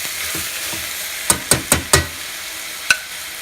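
A steady low sizzle of brinjal pulav frying in a pan, punctuated by a handful of sharp clinks and scrapes of a utensil stirring.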